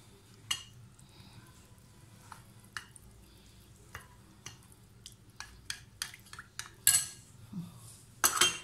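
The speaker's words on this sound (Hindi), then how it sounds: "इसमें मैं ये 2 टेबलस्पून दूध डाल के इसको मिक्स कर दूँगी" A metal spoon clinks and scrapes in a bowl as vanilla custard powder is stirred into milk, with scattered sharp taps growing busier toward the end, close and fairly quiet with no talk.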